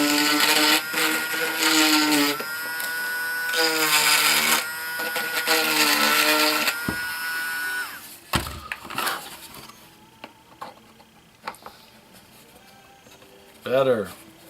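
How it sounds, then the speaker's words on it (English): A Dremel rotary tool whines in several high, buzzing bursts while opening up pins on a Damnation Alley Landmaster model, then trails off into scattered handling clicks, with a person talking nearby. "grab a trusty dusty Dremel tool. Open up my pins a little bit."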